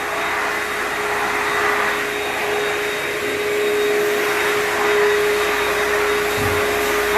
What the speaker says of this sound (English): hand vacuum.